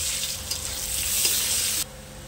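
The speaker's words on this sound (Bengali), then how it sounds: "এবার দিয়ে দিচ্ছি পেঁয়াজ।" Onions hiss and crackle in hot oil with dried red chilli and nigella seeds, frying loudly up close and alone, then the sizzle drops sharply near the end.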